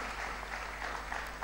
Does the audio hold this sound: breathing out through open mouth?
no